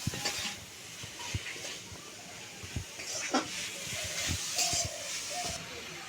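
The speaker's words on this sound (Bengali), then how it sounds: "কড়ার মধ্যে দিয়ে ভালো করে নেড়ে চেড়ে এটা আমি একটা সুন্দর পুর বানিয়ে" Coconut and jaggery filling is stirred in a wok, giving a faint, steady hiss and sizzle broken by soft scraping strokes.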